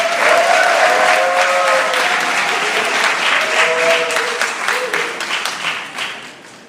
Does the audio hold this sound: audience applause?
yes